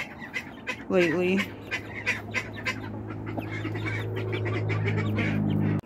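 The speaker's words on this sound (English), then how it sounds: "Little baby rooster's not so little anymore" Chickens and a young rooster squawk and cluck near a backyard coop on a cold day, with a brief loud call early on and scattered fowl sounds under a woman's speech.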